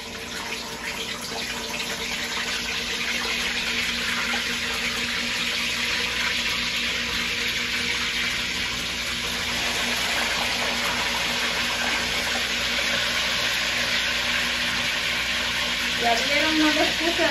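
Mojarra fish frying in hot oil in a clay cazuela, a steady loud hiss and crackle of sizzling that runs without a break through the whole clip, with small bubbling pops near the end.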